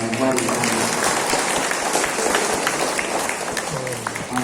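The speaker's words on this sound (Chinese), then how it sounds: "们加以热烈的掌声呢，来欢迎他们" An audience at a Buddhist temple hall gathering applauds to welcome a dance troupe, a dense, steady patter of clapping with some voices mixed underneath.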